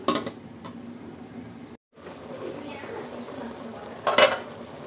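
A cooking pot of Malabar spinach gets handled with its lid, sharp metallic clanks and clinks at the start and again near the end, close by, with quieter scraping between and a short silent gap.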